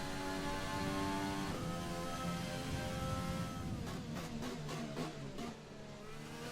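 Race car engine in a racing video game, a steady sustained mid-pitched drone holding a constant pace with slight pitch shifts and a few quick revs near the end, loud and continuous with no talking.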